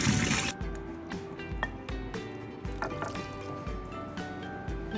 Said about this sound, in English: now that our pasta, our spaghetti is done, let's drain it